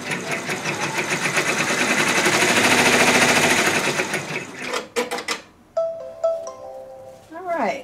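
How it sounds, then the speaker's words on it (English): A multi-needle embroidery machine stitches placement lines for star-point quilt blocks, a fast loud rattling hum that stops abruptly, followed by a few clicks, beeps and short mechanical whirs. "Here's the placement stitches for the star points."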